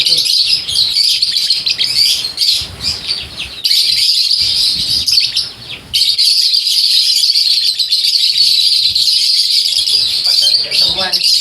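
Lovebirds in a breeder's aviary chirp loudly and continuously, a dense, shrill chatter of many birds close by, with brief dips and softer background noise in between.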